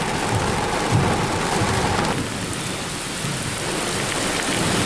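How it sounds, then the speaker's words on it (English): Heavy rain from a severe thunderstorm pours steadily in a dense, loud hiss, with low rumbling underneath throughout. "Okay, and rains are picking up."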